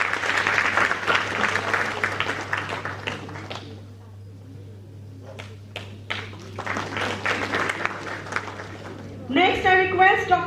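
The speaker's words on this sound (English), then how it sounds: "Give a big round of applause" Audience applause at an international education conference, a burst of clapping that thins out and fades, then scattered claps return before a voice comes in at the end.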